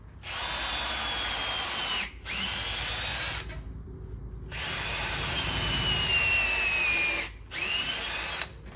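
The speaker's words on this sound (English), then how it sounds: "turn it on the strongest setting. This taxes the drill a bit." A cordless drill runs at full speed in long whining stretches, stopping briefly twice, with a rough grinding edge as it bores into a packed hay bale.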